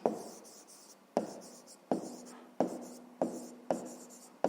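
A sum is written down by hand, with six distinct pen strokes, each a sharp scratch that fades, spaced about a second apart, close and quiet.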